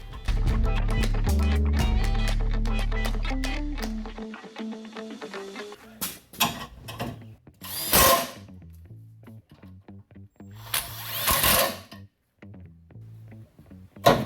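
A power drill spins 10 mm machine screws into a Silverado or Sierra during a radiator install, whining for about four seconds as its pitch shifts, followed by scattered clicks, knocks and handling noises.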